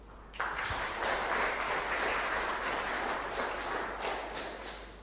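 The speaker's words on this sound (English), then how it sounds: "Please join me in applauding these two human rights activists." An audience at an International Human Rights Day commemoration applauds two human rights activists, a warm, sustained wash of clapping from a seated crowd that rises suddenly and holds steady.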